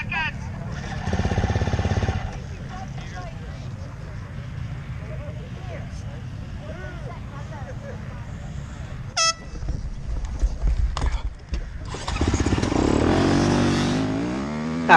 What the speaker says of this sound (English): So that 10-second horn goes off and the heart rate jumps, so let's go racing.